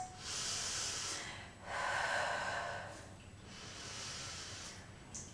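Slow, audible breaths drawn and released through the nose during a slow-flow vinyasa yoga standing splits pose, soft, close and rhythmic, with about three long airy inhale and exhale swells in a quiet room.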